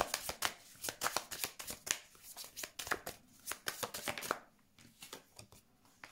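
Tarot cards are shuffled close up in quick, rhythmic riffling bursts, then slow to a few softer flicks and slaps as cards are laid out.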